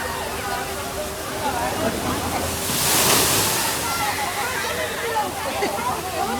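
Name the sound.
water falling from above at resort water ride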